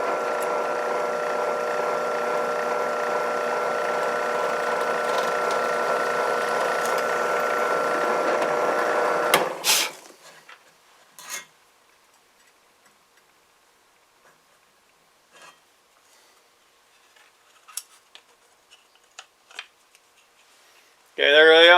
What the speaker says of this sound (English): I'm going to put a scroll saw and cut it out.